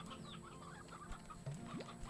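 Chickens clucking in the Slime Rancher 2 video game, quick short clucks and a few rising squawks close by over a steady background hum, no talk.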